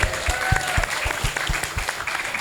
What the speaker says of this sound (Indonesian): Wes, tepuk tangan dulu dong.